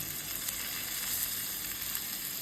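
Malvani-style fish fries in a pan with a steady, even sizzle and crackle of hot oil that runs without a break, fairly soft and with no voices.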